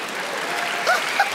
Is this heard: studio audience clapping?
yes